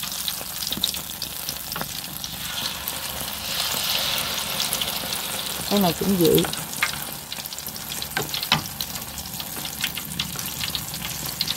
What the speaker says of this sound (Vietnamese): Chiên bánh như kiểu này nó mới giòn nha các bạn.